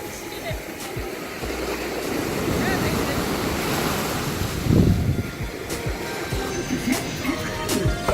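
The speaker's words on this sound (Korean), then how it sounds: "여러분도 잠깐 파도소리 감상하세요." Ocean waves wash onto a beach on Tsushima island, a continuous surf roar with wind buffeting the microphone and a louder wave surge midway, no talking.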